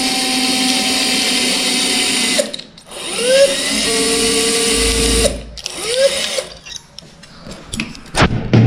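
A small high-speed surgical drill with a 2.0 drill bit bores pilot holes for 2.5 screws in a bone plate workshop, whining steadily in two long runs with short pauses, then stuttering in brief bursts.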